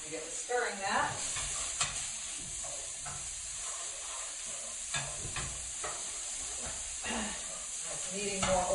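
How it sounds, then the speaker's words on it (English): Onions, peppers and kale stir-frying in a pan, a steady close sizzle broken by repeated scraping stirs and a few clatters, with faint voice sounds in places. "I'm going to get the onions and peppers in there. Some of the kale falling in with it"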